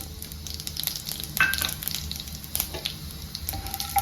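Tempering spices sizzle and crackle in hot oil for a dhaba-style mushroom fry, a steady close frying hiss with sharper pops and a few brief utensil clinks.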